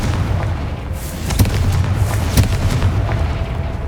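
A Confringo blasting spell going off in Hogwarts Legacy, heavy booming blasts with deep rumble and a couple of sharper impacts, loud and continuous across the moment.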